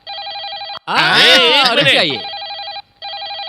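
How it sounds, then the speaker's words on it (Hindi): A telephone bell rings loudly and close in a dubbed Hindi film scene, in bursts of rapid trilling; one burst is broken by a loud, overlapping talking voice and a short gap before the ringing resumes. "मेरा फोन मेरे लिए नहीं तो किसके लिए बजेगा?"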